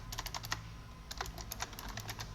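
Fast typing on a computer keyboard while entering a Linux terminal command, with quick, close clusters of crisp key clicks separated by short pauses.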